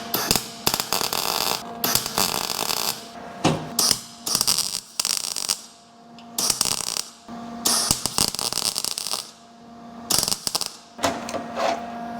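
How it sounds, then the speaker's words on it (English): A MIG welder tacks a panel on a mini truck being repaired from Bondo, with a series of loud, crackling buzz bursts of a second or so each, separated by brief silences, close and without talk. "And I'm just going to tack it with the MIG welder."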